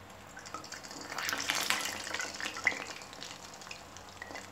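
Bread gulab jamun balls frying in hot oil, giving a steady, close sizzle that swells as they are lowered in, with bubbling crackle throughout and no talk.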